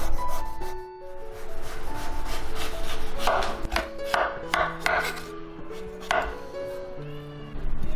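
A knife cuts the peel off a pumpkin in a run of crisp, scraping strokes with several sharper crunchy slices, close and clear, with no talking.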